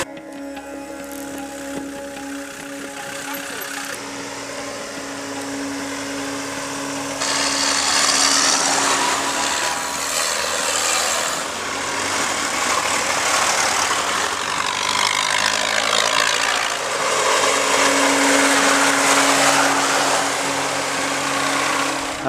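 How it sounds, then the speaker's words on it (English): A tractor drives along a road on Scotland's NC500 route toward a cyclist, a steady loud engine drone that swells noticeably partway through as it draws nearer, with no voices. "I have a tractor coming towards you."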